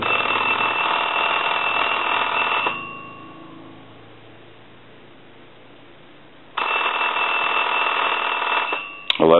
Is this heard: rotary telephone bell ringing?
yes